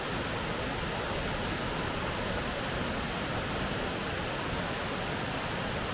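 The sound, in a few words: waterfall at Ricketts Glen State Park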